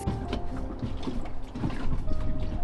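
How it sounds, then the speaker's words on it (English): A small Mercury outboard motor on a boat cranks mechanically without catching, a steady grinding and clicking churn lasting a few seconds, close by with no voices. "The outboard is not starting."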